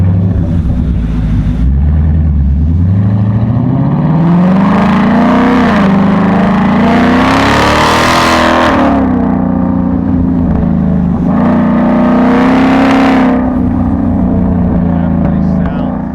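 A 2024 Super Snake with a resonator-delete exhaust revs loud and close, its engine note climbing steadily in pitch, dipping, then surging again in a second rising pull.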